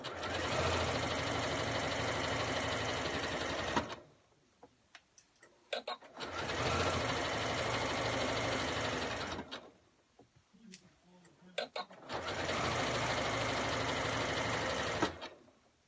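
A sewing machine stitches around the cut edge of a fabric hat in three long, steady runs, each about four seconds, separated by quiet pauses with small handling clicks; close and loud, with no talking.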